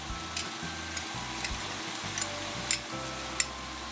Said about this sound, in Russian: И хорошенько это все перемешиваем. И обжариваем еще минут 5-7.